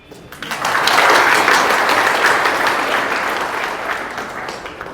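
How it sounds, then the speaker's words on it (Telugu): An audience claps at a health talk on millets, a burst of applause that swells quickly, holds loud for a couple of seconds, then tapers off gradually. "అంతే నా చప్పట్లు."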